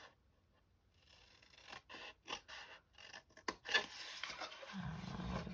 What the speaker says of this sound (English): just going to cut down this one